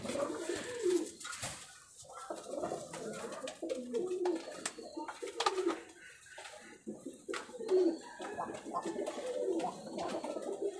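An almond-coloured male pigeon with yellow eyes coos close by, repeated throaty rolling coos in a loose rhythm, with some handling noises between them.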